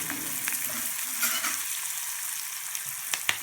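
Spices sizzle and crackle in hot oil in a pan, a steady frying hiss with a few sharper pops and a light stir toward the end.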